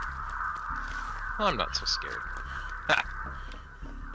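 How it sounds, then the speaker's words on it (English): Crows caw in the Dead by Daylight video game: a few harsh calls stand out clearly over a steady game hum while a person speaks briefly. "The crows go off."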